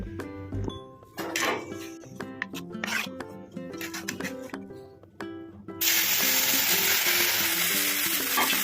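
Pitha batter goes into hot oil in a kadai. Utensil clinks and scraping come first, then a loud, steady sizzle bursts in and fills the last few seconds.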